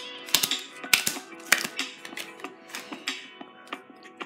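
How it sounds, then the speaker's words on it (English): Playing cards are dealt one by one in a row onto a table, giving crisp snapping taps at an irregular, quickening pace, close and fairly clear. "so now I'm going to take your cards out in a line like this."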